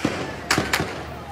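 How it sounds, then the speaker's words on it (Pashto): Two sharp gunshots crack close together, far off and fairly faint, over a low background rumble, during the fall of Kunar province in Afghanistan. "ډزې وشوې"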